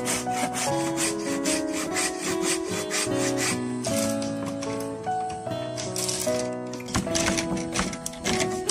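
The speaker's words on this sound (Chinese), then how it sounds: "把刚刚画线标记的地方用锯子锯一下，" A hand saw cuts about halfway through a bamboo strip for a bamboo furniture build, the rhythmic back-and-forth rasping strokes mixed under steady background music.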